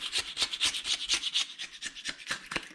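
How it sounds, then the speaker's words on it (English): Old oil pan gasket is scraped off the engine block of an Allis Chalmers tractor, a quick rhythmic series of close raspy scraping strokes, about a dozen in under three seconds. "Start removing a little bit of this old gasket here."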